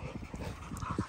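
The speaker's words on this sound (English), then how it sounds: "Hey, that's such a good dog." A first-pick male puppy from a litter pants in quick, steady rhythmic breaths with a soft whimper near the end, close but fairly quiet against a noisy background.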